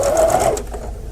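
A sewing machine stitches a quilt block, close and loud, a continuous fast mechanical whir with a tonal hum that fades slightly toward the end of the short burst.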